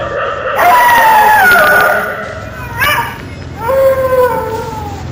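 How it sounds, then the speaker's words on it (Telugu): Dogs howl on a road at night in long, wavering, rising and falling cries, one after another with short gaps, loud and fairly close. "రోడ్డుపైన కుక్కలు ఏడుస్తూ ఉన్నాయి"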